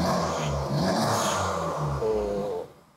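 A remapped Honda Civic Type R FL5 engine revs in a few quick throttle blips, with the pitch rising and falling close by before it drops away at the end.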